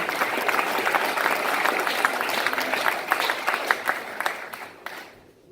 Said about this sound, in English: So let's give him a round of applause for his strength.